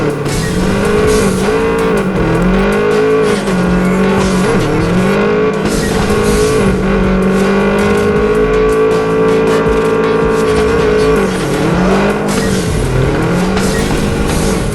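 A race car in a realistic mobile driving game is drifted through a race, its engine droning continuously and loudly, the pitch rising and falling as it revs and slides through corners, with no speech.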